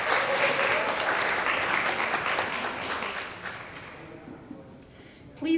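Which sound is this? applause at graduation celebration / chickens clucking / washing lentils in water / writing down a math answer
applause at graduation celebration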